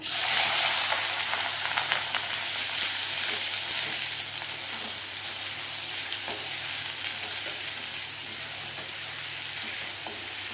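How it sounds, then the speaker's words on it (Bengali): Chopped potatoes fry steadily in hot oil after dried red chillies, giving a dense, continuous sizzle with occasional stirring clicks, close and loud throughout without any voices. "এইবারে দিয়ে দেবো আলু কুচোনো।"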